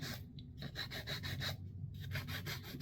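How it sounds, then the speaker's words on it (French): A nail file rasps across fingernails in quick, close, rhythmic back-and-forth strokes, with a short pause midway through. "Et je vais limer un peu. Juste légèrement, pas trop."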